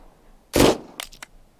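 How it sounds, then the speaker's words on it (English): Gunfire in the video game Unheard: one loud, sharp shot rings out, followed by a couple of fainter, quick cracks against a quiet background. "let's go back to those 2 gunshots."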